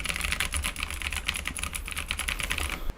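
Steady, fast typing on a keyboard, a dense stream of clicks over low background hum, close by and moderately loud.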